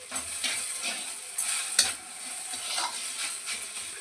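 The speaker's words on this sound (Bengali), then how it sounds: "দেখবেন নারকেল দিয়ে মিক্স করবো এটাকে" A coconut filling with nuts, black pepper and cardamom is stirred in a pan for fried semolina puli pitha, a soft scraping stir over a steady sizzle that rises now and then with light clinks.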